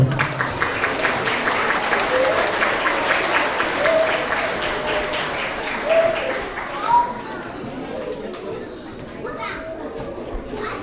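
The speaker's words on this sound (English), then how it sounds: "Let's give a round of applause for all of our TK and Kinder Growth Mindset Award winners." Applause at a school award assembly for young TK and kindergarten winners, steady clapping from a crowd of children and parents with kids' chatter and voices mixed throughout.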